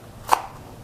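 A knife cuts through crispy, cooled deep-fried chicken, giving one short, sharp crunch near the middle of an otherwise quiet moment.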